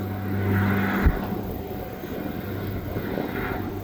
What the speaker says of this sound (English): It's just the Air New Zealand passenger plane.